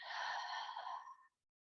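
A person breathes out during a gentle tai chi exercise, a single long, soft, airy exhale lasting over a second, close and clear, that trails off into silence.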